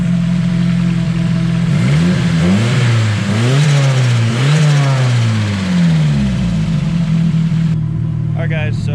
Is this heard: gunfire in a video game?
no